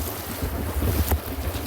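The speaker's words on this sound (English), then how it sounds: "lots of wind here" Strong wind buffets the microphone while sailing, with a low rumbling roar and gusty swells over water; there is no speech.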